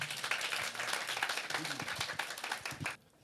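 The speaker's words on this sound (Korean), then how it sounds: "큰 박수 다시 한번 부탁드립니다." Conference audience applauding at a Korean business-association event, dense continuous clapping across the room that stops abruptly near the end.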